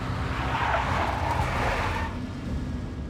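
Video game car chase in Max Payne involving a big black Mercedes: continuous loud engine roar with tires skidding and squealing, easing slightly toward the end.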